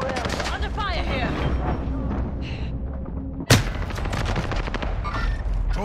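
A single sharp rifle shot cracks out loudly in a military video game, amid continuous battle noise and background chatter.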